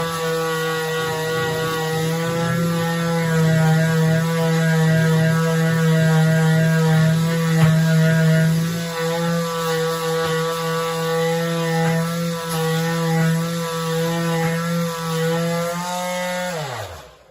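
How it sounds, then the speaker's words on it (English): An electric sander runs continuously on a dated kitchen cabinet, applying a light first coat of sanding, with a loud, steady motor drone holding the whole time before winding down abruptly at the very end. "So you just want to sand a light coat to start."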